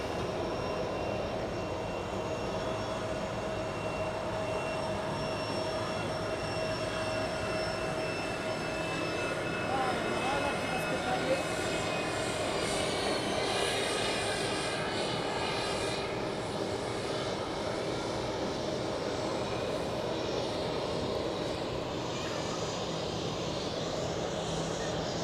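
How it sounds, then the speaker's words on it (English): An Airbus A320 jet rolls along the taxiway at Zurich Airport, its engines a steady mid-level whine and rumble with tonal hums that swell slightly midway, continuous throughout with no talk. "Then on the taxiway, an A320 to Stockholm"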